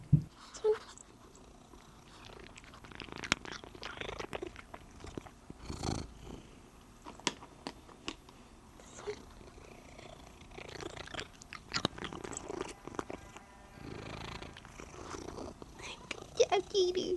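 A cat purrs close up in a steady, rough rumble with soft rustling and occasional faint voice sounds mixed in, quiet and intimate indoors.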